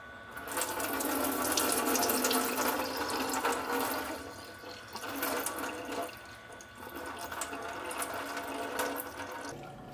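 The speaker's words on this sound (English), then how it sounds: "and drain the water." Water running into a kitchen sink as rinsed rice is drained, a steady splashing rush with gurgling that swells and eases over ten seconds, close and fairly loud with no talking.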